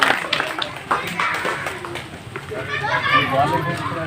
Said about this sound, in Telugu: ఒకసారి చప్పట్లు.